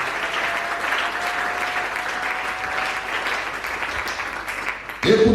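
A church congregation applauds and cheers steadily, a dense crowd of clapping with voices mixed in, loud and continuous before a sudden louder burst at the end.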